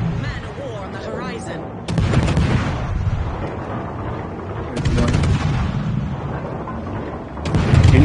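Heavy naval gunfire in World of Warships, a Des Moines cruiser engaging a target: deep booming shots land at intervals across the clip, loud and close, with players talking over the battle.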